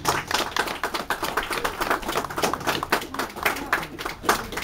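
A crowd claps for prize recipients at a traditional heritage-day event. The applause is dense and continuous, close and lively, with a faint voice underneath.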